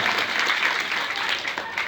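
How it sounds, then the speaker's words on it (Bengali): Audience clapping for a group of girls who sang Biyanaam at a Bihu event, a steady, moderately loud patter of many hands for about two seconds. "মই বিয়ানামৰ কাৰণে এটা হাততালি ওলাব কৈছোঁ সকলোকে"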